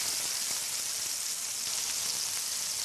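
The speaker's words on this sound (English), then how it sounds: "Listen to that sizzle." Butter sizzling in a hot pan, a steady soft crackling hiss throughout, close and fairly quiet with no talk.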